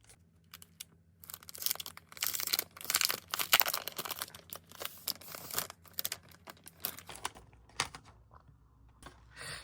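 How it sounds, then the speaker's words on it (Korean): Plastic packaging around a Midori paper notebook crinkles and tears in close, irregular bursts, loud at first and then sparser and quieter toward the end. No one speaks. "미도리 노트입니다. 한번 뜯어볼게요."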